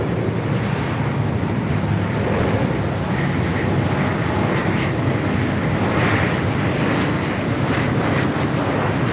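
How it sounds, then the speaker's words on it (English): A Southwest Airlines Boeing 737 MAX 8 comes in to land at LAX, its broad steady jet roar filling the air with wind buffeting the microphone throughout. "This is Southwest Airlines 1809 coming in from Phoenix on a MAX 8."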